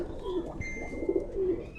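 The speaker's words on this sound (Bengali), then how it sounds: "চমৎকার এক জোড়া কবুতর দেখতে পাচ্ছেন।" A pair of Pakistani Teddy pigeons cooing softly and close by, a few low rolling coos in a steady murmur with no voices.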